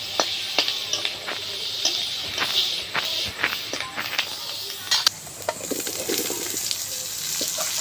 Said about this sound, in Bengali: এবারে ফোড়নে দেবো শুকনো লঙ্কা, তেজপাতা, পাঁচ ফোড়ন, পেঁয়াজ কুচি দিয়ে ভালো করে একটু নেড়ে নেব।